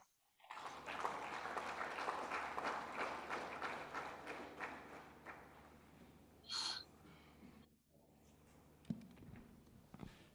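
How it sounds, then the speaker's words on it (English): Applause from the audience at a national seminar on banking for judges, a broad steady clapping that lasts several seconds and then fades, with a brief high-pitched noise partway through. "Please, another applause for Mr. Bernadette Neto."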